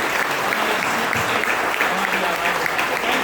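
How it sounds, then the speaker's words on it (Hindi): Loud, dense applause from a congregation at a Hindi-language preaching service, continuous clapping throughout with no pauses. "जोरदार ताली बजाकर"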